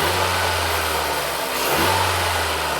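A car engine revs steadily at close range, a continuous droning roar with a brief dip near the middle before climbing again, during a diagnosis of a high pressure fuel pump starving for fuel and intermittent stalling.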